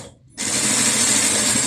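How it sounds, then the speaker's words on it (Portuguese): A sewing machine runs fast and loud closing a seam on a bucket bag, a continuous whirring hum that starts abruptly after a brief near-silent pause. "Agora eu trago ela assim mesmo para a máquina e eu vou fechar essa minha costura aqui, lembrando do retrocesso no início e no final"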